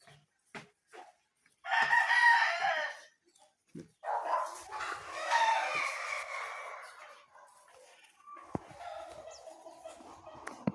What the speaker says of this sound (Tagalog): Yung ating manok.